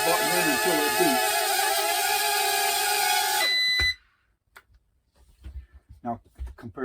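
A loud continuous electronic tone with layered pitches from a Thunderbolt JET X-2 stunt drone controller cuts off abruptly, followed by quiet clicks and soft handling noises.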